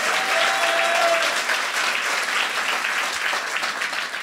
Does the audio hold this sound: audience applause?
yes